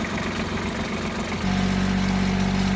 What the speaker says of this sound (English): Customer let me borrow his little tractor.